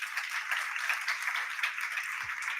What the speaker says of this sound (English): Please give a round of applause as she comes up.